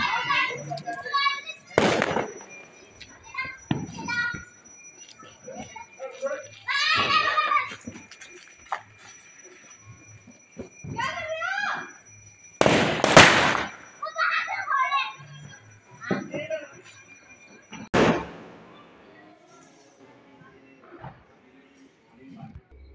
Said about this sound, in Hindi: बच्चे फोड़ रहे हैं यहाँ पे पटाखे।